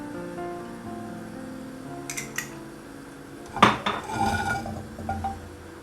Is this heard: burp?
no